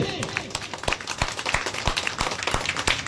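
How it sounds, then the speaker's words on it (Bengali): Everyone claps together at a Janmashtami puja celebration prize presentation, scattered sharp claps rising into a steady patter of applause with voices mixed in. "জোরে হাততালি সবাই মিলে"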